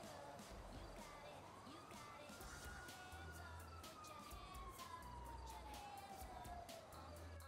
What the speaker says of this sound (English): As soon as you said that, I hear sirens.